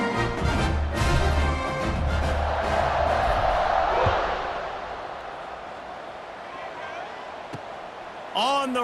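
A stadium crowd in the EA Sports College Football 26 video game roars before a kickoff, a broad steady swell under a play-by-play commentator that fades to a quieter murmur.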